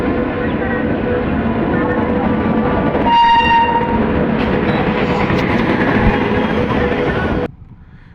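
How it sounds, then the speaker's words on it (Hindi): An Indian Railways train arrives and passes close by, its loud steady rumble with wheel clatter and a brief horn-like tone partway through, continuing for several seconds before cutting off sharply near the end. "हमारी इंडियन रेलवे ट्रेन आ चुकी है।"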